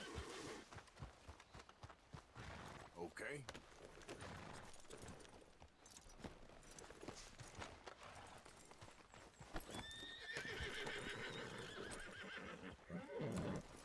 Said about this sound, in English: Those horses are freaking the fuck out.